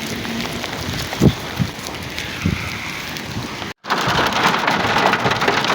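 Heavy rain pours down in Islamabad, heard from under a shed as a dense, loud, steady hiss with a few heavier thumps and a brief cut before it swells again.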